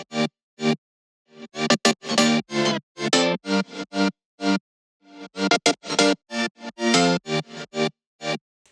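A three-layer stack of chord instruments in an electronic track plays short, choppy, funky stabs in a syncopated groove, loud and dry, with no voices.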